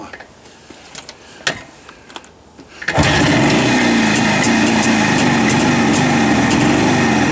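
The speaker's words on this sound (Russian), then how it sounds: "Свечи еще не менены, и вот на одной свечке завелась." A Jawa motorcycle engine with old spark plugs fires up on just one cylinder after a few quiet knocks, then runs loud and continuous with a rough, uneven buzzing idle.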